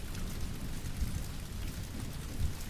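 Ambient rain for a steampunk sleep story falls steadily as a soft, even patter with low rumbling undertones, gentle and continuous with no voices.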